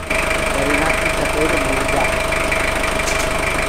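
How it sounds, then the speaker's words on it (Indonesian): A freshly cleaned engine runs at a steady, even idle in a workshop in Waingapu. A continuous close hum holds through the whole stretch with no break. "Kami lihat suara mesin sudah garing dan mesinnya bersih sekali, kinclong, kering."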